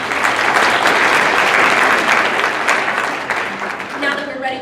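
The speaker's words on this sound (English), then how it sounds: "Let's give them a round of applause." Audience at a pageant applauding steadily, a dense wash of clapping hands that holds strong before thinning slightly at the end, with faint voices mixed in.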